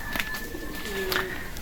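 Racing pigeon cooing in short soft bursts, fairly close, over steady background hiss with a faint tonal hum running through.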